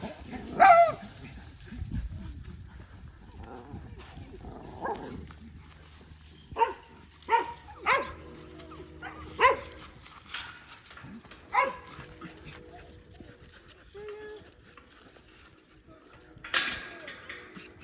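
A dog outdoors gives a series of spaced barks and yips, some near and sharp, others fainter, with a person talking quietly between them.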